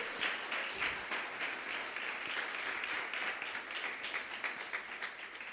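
Congregation in a church applauding the Lord during a sermon, a dense, steady wash of many hands clapping at moderate distance, sustained without pause and with no voices above it.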